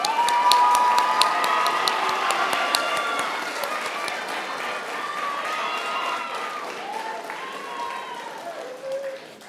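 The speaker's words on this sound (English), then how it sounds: "let's give them all a round of applause" An audience at a school stepping-up ceremony applauds and cheers steadily, with shouts and whoops over dense clapping that fades slightly toward the end.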